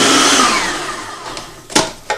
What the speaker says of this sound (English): Now we're putting them into a food processor because we're going to chop them down.